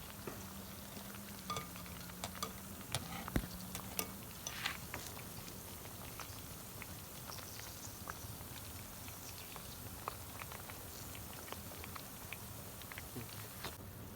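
Jalebi gently stirred in a pan of hot oil over low flame, a faint steady sizzle with scattered soft clicks and taps of the utensil throughout.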